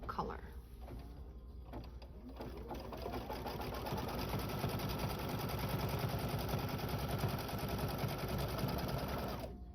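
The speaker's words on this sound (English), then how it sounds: "So now we're just going to stitch cut line B" Sewing machine stitching through a terry cloth soap pouch with stabilizer, a steady close mechanical whir with rapid needle rhythm running nearly continuously after a brief start.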